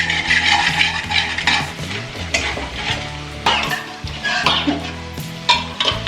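Red chilli and coriander powder get sautéed in a pan for an Indian dal dinner, loud close frying with busy spatula scraping and clattering against the metal pan throughout.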